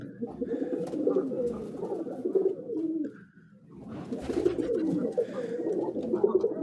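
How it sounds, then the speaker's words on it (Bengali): Native desi pigeons coo in low, rolling phrases, pausing briefly before the soft cooing resumes, close by with faint background noise. "কিছু কবুতর বাইরে আছে উড়ে বেড়াচ্ছে অনেক সুন্দর কবুতর"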